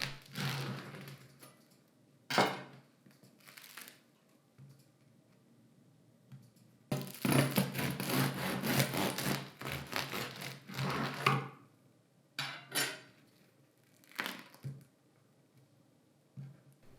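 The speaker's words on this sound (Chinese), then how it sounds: "切开看看组织" Knife sawing through a crusty baked sourdough loaf, bursts of crackly crunching separated by pauses, the longest stretch in the middle, close and alone.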